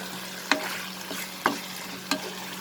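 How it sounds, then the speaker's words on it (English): Tomato and onion sauté in oil with a steady close sizzle, broken by a few sharp scrapes and taps of a spoon stirring the pan, and no voices. "keep sauteing this and cooking till it starts leaving oil."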